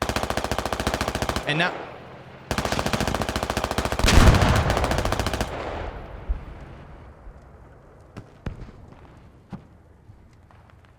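A tank in the Squad video game fires high-explosive rounds: a long rapid burst of heavy gunfire cuts off, resumes, then a loud blast lands, followed by scattered sharp impacts fading into quieter rumble; a voice speaks briefly.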